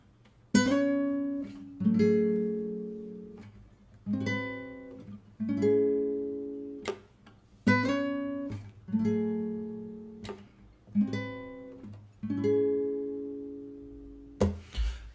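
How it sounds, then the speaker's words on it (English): Plucked acoustic guitar chords ring out one after another in a slow repeating pattern, each strum decaying before the next, played alone. "starting with just those 4 intro chords before we even bring in the bass"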